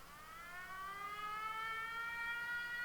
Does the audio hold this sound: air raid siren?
yes